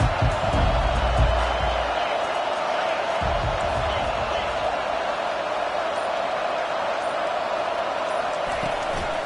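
Stadium crowd in the College Football 25 video game, ASU vs Texas A&M, heard as a constant dense roar of many voices. Some low thumps come near the start.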